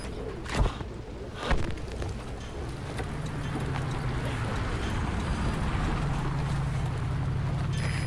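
A steady low engine rumble from vehicles in the video game Metal Gear Solid Ground Zeroes builds and holds, with a couple of brief thumps near the start and no voices.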